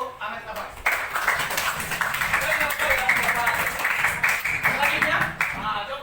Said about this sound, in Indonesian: Tepuk tangan untuk anak kita